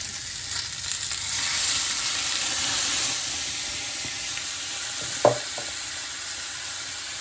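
Pork chops searing in a pan give off a loud, steady sizzle and hiss, with a brief clatter of a utensil near the end.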